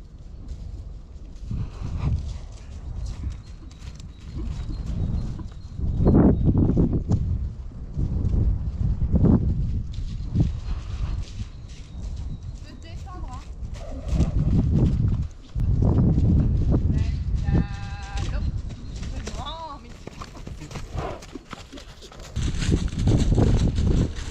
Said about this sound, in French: Bali trotter Doucement.